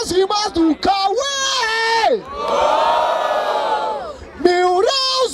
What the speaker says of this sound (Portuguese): Barulho para as rimas do Cauê